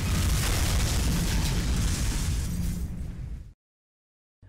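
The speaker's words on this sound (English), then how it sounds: "When you finish a set of locations, it just blows with out of nowhere massive explosion." A massive explosion in the game Fake Lost Vikings 3 roars as a loud, dense rumbling blast lasting several seconds, fading out before abrupt silence.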